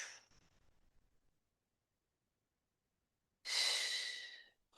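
A slow exhale from a Kundalini breathing exercise: a soft breathy release fades out, then after a pause a louder, close airy breath rushes out and tapers off, with no talking.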